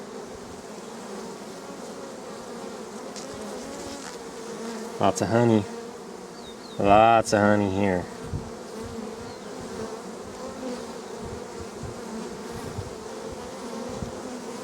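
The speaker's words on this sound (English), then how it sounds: "A few bees, some big drones in there." Honeybees and large drones hum in a hive frame with a low, steady, close buzzing throughout, while a voice speaks briefly twice in the middle.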